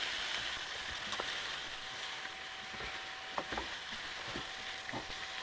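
Chopped onions and grated carrots cook gently over low heat in a pot on an off-grid setup, a faint steady sizzle with a few soft stirring clicks and no speech.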